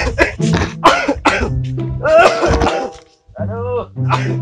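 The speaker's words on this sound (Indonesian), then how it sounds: "semang itu batuknya parah" A person coughs heavily in several rough, forceful bursts, close and loud, with other people talking around and between the coughs.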